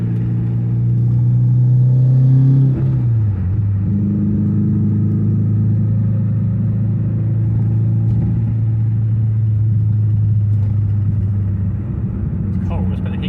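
Interior noise in a Renault Clio RS 172 on the road: a loud, steady engine drone and road rumble, with a brief pitch shift early on as the engine note changes, and someone talking throughout.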